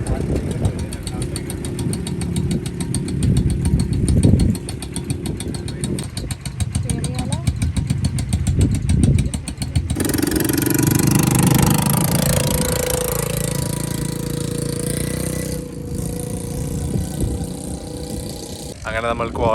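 A quad bike engine rumbles on a desert safari in Doha, a loud, rough, continuous drone that shifts in pitch and texture, with voices talking over it.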